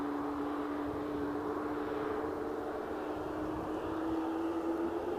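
A Hainan Airlines airliner taxis at Edinburgh airport, heard as a distant, continuous engine drone with a steady whine that holds throughout.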